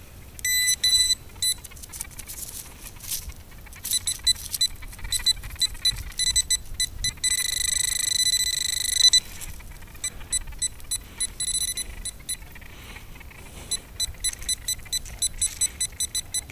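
A metal detector sounds off over a buried penny with a run of high, bright beeps and warbling electronic tones, some repeated rapidly and one held longer, against a soft outdoor background.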